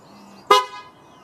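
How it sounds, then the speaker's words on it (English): A single short Tesla Model S horn honk, sharp and loud, close by, against quiet surroundings. "I can honk the horn."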